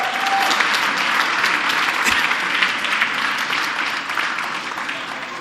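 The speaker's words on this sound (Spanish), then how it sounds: "Dele un aplauso al Señor" A church congregation at a worship service applauds steadily and loudly, many hands clapping together in a dense sustained wash, with a few voices faintly audible under it.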